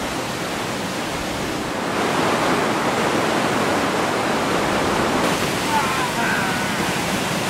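A glacial mountain stream in the Langtang valley of the Himalayas, Nepal, rushes in a steady, loud roar, a continuous torrent that swells slightly partway through and never lets up.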